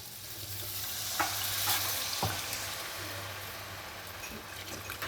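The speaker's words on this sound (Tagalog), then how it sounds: "saka natin ilagay yung ating gata" Coconut milk goes into a pan of sizzling shrimp, bringing a steady, crackling sizzle with soft stirring scrapes and a few sharp clicks of a utensil against the pan.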